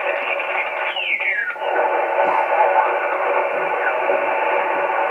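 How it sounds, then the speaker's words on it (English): Steady shortwave radio hiss with garbled, overlapping signals on the busy 20-metre amateur band during a contest, and a brief whistling tone sweeping across as the receiver tunes. "the traditional way of tuning the bands is with a regular receiver"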